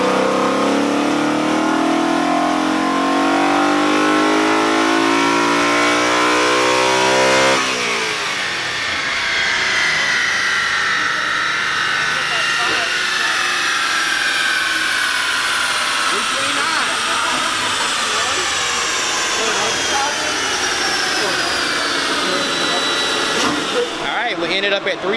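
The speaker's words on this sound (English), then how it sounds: "Also, listen to that induction noise." A BMW M3 on a dyno during a pull, its engine induction roaring loudly and rising steadily in pitch as revs climb, then a brief dip at a shift before climbing again to a peak.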